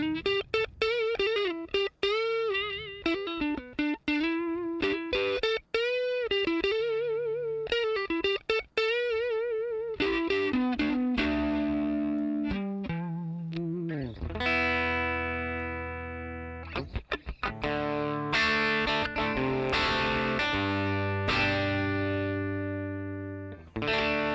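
Electric guitar played through a budget effects unit on clean tones, sounding alone and up close: ringing chords and single-note phrases, followed by sustained, fuller strummed chords.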